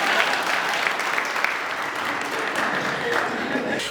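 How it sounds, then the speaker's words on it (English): An audience at an entrepreneurship summit claps for themselves, a dense, steady wash of applause that holds evenly throughout with a faint murmur of voices mixed in. "Now clap for yourself."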